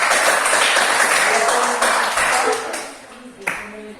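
Classroom applause for a student group in a music lesson, a loud burst of many hands clapping that gradually thins and fades, ending with a sharp single clap and faint tones.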